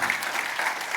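A church congregation claps loudly and steadily in praise of Christ during a Christian worship service, a dense wash of many hands with no voices standing out.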